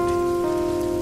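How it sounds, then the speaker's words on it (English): Heavy rain falling in a steady, dense hiss that continues unbroken throughout, with a low sustained tonal hum underneath. "I hadn't seen rain like this since the last time it rained."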